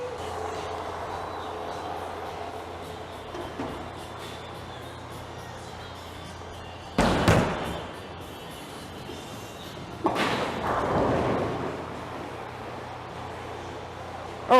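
A bowling ball rolls down the lane during league practice with a long, low rumble, then two sharp crashes a few seconds apart as it reaches the end, all over steady alley background noise.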